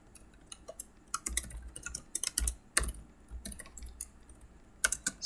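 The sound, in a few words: typing on a computer keyboard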